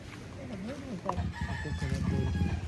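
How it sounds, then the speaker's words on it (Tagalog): Rooster crowing with chickens clucking around it in a Philippine yard with coconut trees, a wavering crow at moderate distance followed by scattered clucks over background noise. "We got so many chickens."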